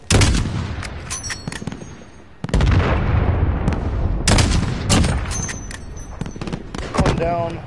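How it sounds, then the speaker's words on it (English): Loud blasts and gunfire crash through a Modern Warfare firefight under falling mortars, with heavy thumps and sharp cracks crowding together as soldiers shout over the din. "Incoming mortars."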